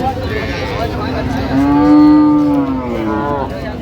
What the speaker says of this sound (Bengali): গাভী বাচ্চুর আমরা দেখছিলাম এখানে